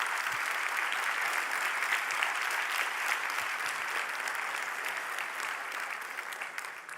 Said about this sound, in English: I think they deserve a wonderful round of applause